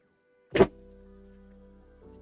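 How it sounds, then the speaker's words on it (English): A single solid thunk of a door shutting nearby, followed by a low steady hum of background noise. "Let me close the door real quick."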